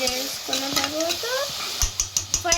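Chicken curry mixture is stir-fried in a pan, with close scraping strokes of a spoon over a steady sizzle, ending in a quick run of rhythmic metallic clicks against the pan.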